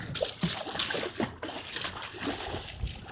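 Water splashes and sloshes as a caught salmon is let go on a West Coast fishing trip, a few close irregular splashes and dribbles followed by quieter trickling.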